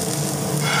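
Potatoes sauté with masala in a pan, giving a steady close sizzle and frying hiss throughout the short moment, with no talking.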